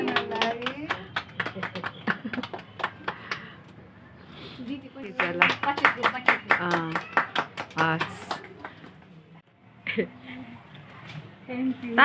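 Small group claps at a farewell gathering, uneven bursts of close hand claps that come and go, mixed with people talking over them.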